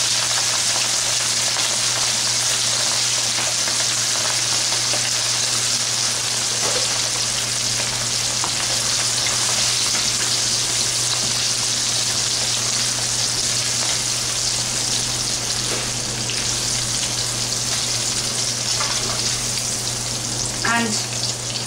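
Shrimp seasoned with salt and turmeric fry in a pan over moderate heat, giving a steady, dense sizzle that runs unbroken and fairly loud throughout, with a low hum beneath and a few faint clinks near the end.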